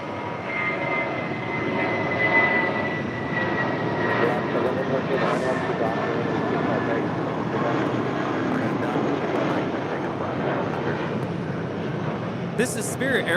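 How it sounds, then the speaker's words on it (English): A brand-new United Airlines Boeing 737 MAX 9 arriving at LAX, a steady moderate jet rumble with a faint whining tone, with voices talking over it. "United Airlines flight 1977, coming in from Cleveland, Ohio, in the 737 MAX 9"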